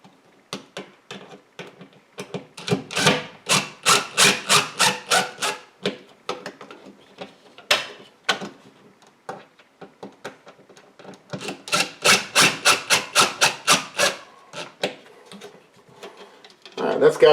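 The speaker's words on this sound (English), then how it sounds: "I'm going to finish them off with a impact with a Phillips screwdriver bit" An impact driver fitted with a Phillips bit drives thermostat mounting screws into a wall in two long bursts of rapid, rattling hammering, separated by quieter clicks and handling noises.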